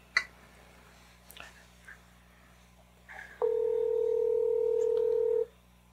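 Phone call being placed: after a few faint clicks and rustles, a steady two-tone dialing or ringback tone sounds loud and alone for about two seconds, then cuts off.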